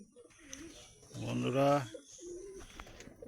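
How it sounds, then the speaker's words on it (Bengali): Male pigeons coo in their loft, a low throaty burst in the middle with softer coos around it, while someone speaks briefly nearby. "এই যে এই ঘরে মেল পায়রাগুলো রয়েছে"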